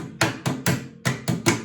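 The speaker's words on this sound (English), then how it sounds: "this is where you might need a little bit of a hammer" A hammer taps six times in an uneven rhythm, driving seat webbing into the holes of a Morris 1000 seat frame. The short, close taps are crisp and come alone with no talk.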